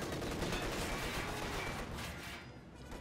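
Rifle and machine gun fire in Company of Heroes 2, a dense continuous crackle of distant battle gunfire with layered bursts, fading slightly toward the end.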